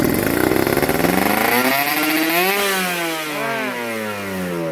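A motorcycle fitted with a PWK 30 carburetor revs hard nearby, its engine note climbing and sweeping upward in pitch through a rough, buzzing acceleration before easing off.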